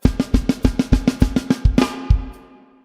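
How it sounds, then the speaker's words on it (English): A quick drum fill leading into the chorus: a rapid run of about a dozen tom and snare hits tumbling downward, ending on a crash cymbal that rings out. "This is the classic fill that leads into the chorus,"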